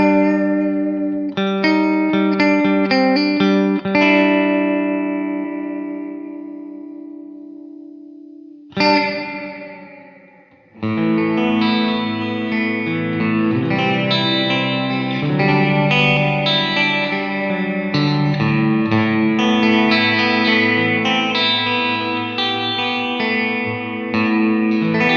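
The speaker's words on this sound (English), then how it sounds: "The next one is a double tank reverb, and this handles the modulation depth." Sustained chords run through a Line 6 DL4 MkII pedal's double tank reverb with modulation depth, swelling into a thick, shimmering wash. The sound cuts briefly near the middle, then returns dense and loud.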